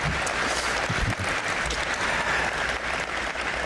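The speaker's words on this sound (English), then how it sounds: "Give them a round of applause." A crowd at a grand opening ceremony of an event centre applauds steadily, a dense wash of clapping at even loudness throughout with no voices standing out.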